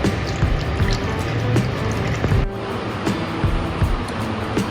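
Running water pours and splashes steadily close by, a continuous rushing stream as chhena (fresh curd cheese) in a strainer is rinsed.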